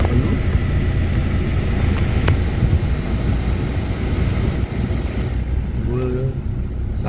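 A car engine idling with the air conditioning switched off and a stepper motor idle valve holding revs steady, heard as a constant low engine drone with wind-like hiss, a few brief clicks and a faint tone near the end.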